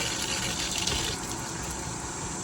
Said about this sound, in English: So we're going to refill the tank.